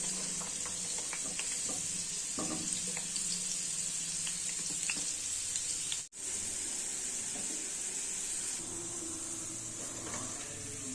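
Amla (Indian gooseberries) dry-roasting without oil in a pan over low flame, a steady soft sizzle and crackle with faint scraping stirs, briefly cut off midway before continuing evenly.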